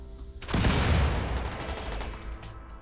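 Explosion in the video game Rimworld, a loud broadband burst with crackling, gunfire-like bangs that swells about half a second in, then decays into a long rumbling tail.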